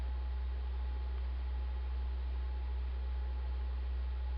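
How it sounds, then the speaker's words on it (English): Steady broadband pink noise plays alone as a continuous, even hiss with a strong low-end hum, unchanging in level throughout. "Here's another one, and it's called pink noise."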